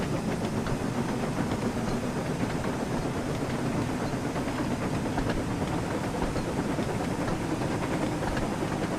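Gordon, a steam engine in the Thomas & Friends: Wonders of Sodor video game, runs at speed with a steady, dense rolling rumble and hissing rail noise that holds loud and unbroken throughout, with no talk.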